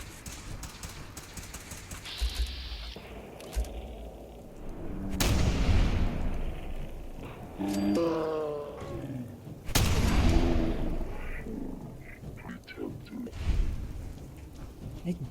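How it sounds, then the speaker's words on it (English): Gunfire in the Fallout 4 video game at a hospital against super mutants: loud broadband shots burst out in separate bursts amid game sound effects and music, with quiet stretches between. "I do enjoy the shooting."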